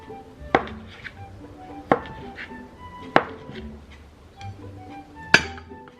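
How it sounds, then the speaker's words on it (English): Kitchen knife cutting a thin egg omelette for kimbap on a board: four crisp, evenly spaced chops with a slight clinking ring, close and clear, with no talk. "So now what I'm going to be doing is cutting this egg that I just made."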